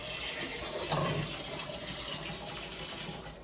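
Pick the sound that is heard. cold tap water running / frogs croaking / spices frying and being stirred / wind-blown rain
cold tap water running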